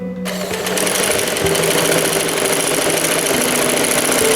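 A sewing machine runs steadily, stitching a fabric strip onto a pair of capri trousers; the motor's even whirr starts almost at once and continues close and loud without pause.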